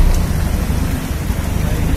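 Heavy rain in Telangana, a loud, dense, continuous hiss of downpour with a low rumbling undertone, steady throughout.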